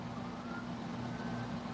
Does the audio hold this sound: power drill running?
no